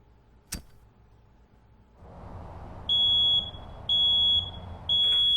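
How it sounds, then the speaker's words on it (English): A smoke alarm set off by an oven fire emits three long, loud electronic beeps with short gaps between them, sounding over a low rumbling background after a brief knock. "Smoke alarm."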